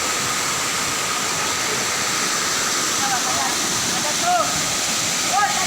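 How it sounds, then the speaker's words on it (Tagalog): Lower Busay waterfall in Imelda, Zamboanga Sibugay, a loud steady roar of rushing water filling the whole scene, constant and close, with faint birdlike chirps near the end. "Yan, ganyan talaga yung ganda ng falls."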